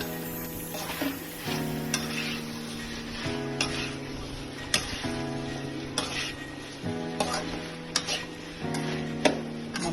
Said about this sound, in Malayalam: Chilli flakes. എന്നിട്ട് അതും നന്നായിട്ടൊന്ന് മിക്സ് ചെയ്യുക.